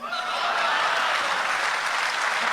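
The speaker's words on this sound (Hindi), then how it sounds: "एक बार जोरदार तालियों से तहजीब हाफी का स्वागत कीजिए" Audience at an Urdu poetry gathering applauds, with steady, dense clapping throughout and a few faint chuckles mixed in.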